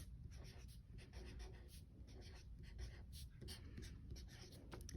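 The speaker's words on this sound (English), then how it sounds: "So now I'm going to turn this around and we're going to write" Faint scratchy strokes of a marker writing on a chart, steady and close, under a low background hum.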